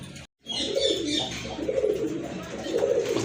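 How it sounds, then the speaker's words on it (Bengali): Several pigeons, including a pair of Chila pigeons, coo nearby in low, rolling, repeated calls that overlap one another after a brief moment of silence. "তো চলেন কবুতরগুলো আপনাদেরকে দেখাই"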